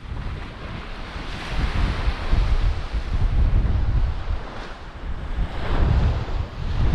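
Strong wind roars across sea marshes at high water, a continuous loud buffeting rush that swells and eases in gusts, with heavy low rumble against the microphone.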